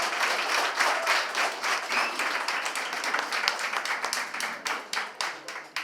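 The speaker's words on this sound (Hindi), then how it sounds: "क्या पंचायत वाली तालियां हो सकती है?" Audience applause at the Jashn-e-Adab 2023 literary festival session, a dense steady wash of many hands clapping throughout, with a few sharper individual claps standing out near the end.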